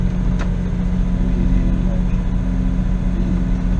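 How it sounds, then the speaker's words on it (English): A Dodge Charger running on its first drive, its engine giving a steady low rumble and hum throughout, close and loud, with a voice briefly heard over it. "I'm about to get into the Charger and drive it for the very first time."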